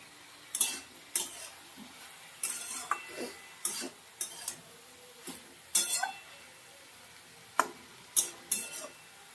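A spatula scrapes and clinks against a pan while stirring soft potatoes, eggplant and drumstick flowers, a series of short, close metallic taps and scrapes at an irregular pace in a quiet kitchen.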